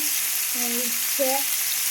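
Steady, loud sizzling hiss of fish frying in oil fills the clip, with a couple of faint low tonal sounds underneath.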